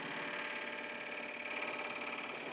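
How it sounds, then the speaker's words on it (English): A foot-pedal-controlled power saw, likely a scroll saw in a home workshop, runs steadily and fairly quietly with a continuous motor buzz and rapid mechanical chatter throughout. "Okay, so I use a foot pedal when I cut."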